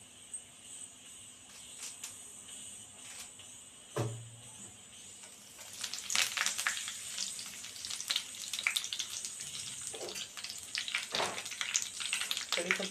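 Curry leaves hit hot oil in a pan with bitter gourd, bursting into a loud crackling sizzle partway through after a quieter simmer, with scattered spatters and occasional stirring scrapes.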